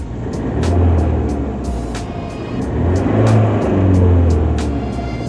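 A Ford Fiesta ST engine fitted with a Turbosmart blow-off valve revs up nearby in loud swelling surges, with sharp short hissing bursts and chirps between the revs.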